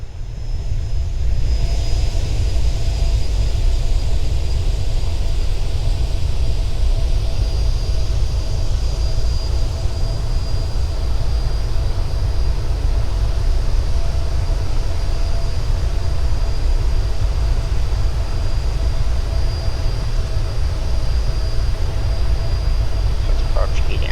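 A Boeing 787-9 in a flight video game drones with a steady, loud, continuous jet engine roar and a thin high whine throughout.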